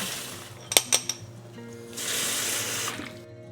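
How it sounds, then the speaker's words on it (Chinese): Dried scallops and dried shrimp are rinsed in a bowl at a kitchen sink: a few sharp clinks and knocks come first, then a tap runs with a steady, close gush of water for about a second before shutting off. "我们还是要先清洗一下这些干货"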